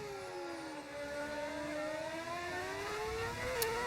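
A continuous, droning F1 racing engine in a modded racing video game whines steadily, its pitch slowly dipping and rising like a car accelerating through gears, with no voices.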